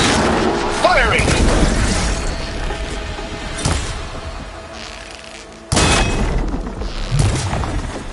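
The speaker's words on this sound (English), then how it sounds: "Firing!" Gunfire in the video game Horizon Forbidden West: loud booming blasts and crackling shots in bursts, with a heavy impact near the start and another sharp burst later, under game dialogue.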